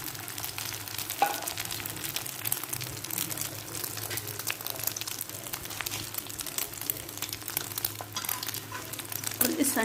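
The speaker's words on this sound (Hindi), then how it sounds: "अब बचा हुआ अंडा हम फ्राई कर लेते हैं।" An egg frying in a pan for a burger, a steady crackling sizzle with fine popping throughout, close and moderately quiet, rising slightly toward the end, with no talking.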